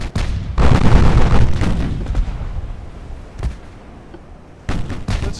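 Battleship 8-inch guns firing a salvo in the naval game Ultimate Admiral Dreadnoughts: several heavy booming blasts, one long rumbling volley at the start, then scattered single thuds, loud and close, with rumble trailing off between shots.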